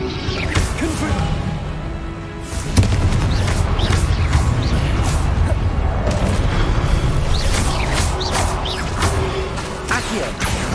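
Confringo explosion spell cast repeatedly in the video game Hogwarts Legacy, producing loud booming blasts with crackling bursts over a dense, constant game soundscape of combat effects.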